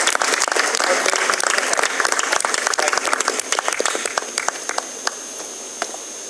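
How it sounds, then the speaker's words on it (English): Audience applause for a prize winner at the NAPEM 2022 closing ceremony in a hall: dense clapping at first, thinning toward the end into scattered individual claps. "double clapping for her"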